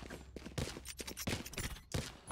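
Stinger and Sheriff gunfire in a tournament video game match, rapid bursts of overlapping shots in several clusters, loud and close, with no talking over them.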